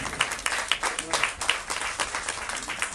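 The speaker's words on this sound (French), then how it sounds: "je demanderai des applaudissements pour effectivement l'organisation" Audience clapping at an outdoor naming ceremony for a playground, a moderate round of applause with distinct individual claps standing out in an uneven rhythm.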